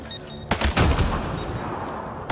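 Rapid bursts of gunfire in Mass Effect: Andromeda as shots target mines, with a few loud close shots followed by a sustained rattling burst and a final crack at the end.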